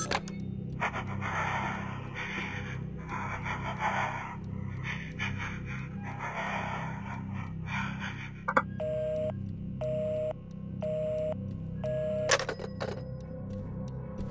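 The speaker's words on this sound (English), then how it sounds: "Ghost breathing." Ghostly breathing in the horror video game Evil Inside comes as slow, rhythmic heavy pants over a low drone, followed by a run of electronic beeps.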